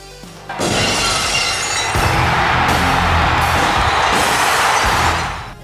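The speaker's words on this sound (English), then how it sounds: "the glass broke for the first time in 8 months, with the Staples Center exploding for Steve" Steve Austin's entrance music at a WWE Raw arena opens with a loud glass shatter that bursts in suddenly, followed by a sustained roar of noise and crowd cheering before it fades.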